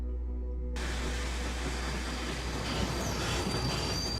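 A passenger train runs along the rails bound for Paris, a steady, continuous rumble with a faint high squeal that builds slightly toward the end, with no voices.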